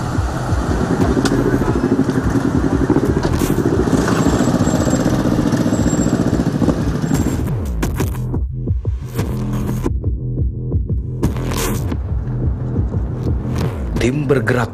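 Police motorcycles rumble and throb close by as an officer team rides off together, engines revving and idling under loud chatter, with brief gaps in the noise later on.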